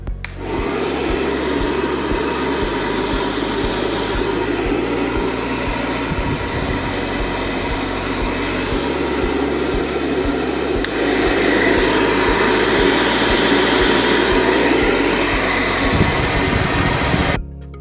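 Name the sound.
Silver Crest hair dryer running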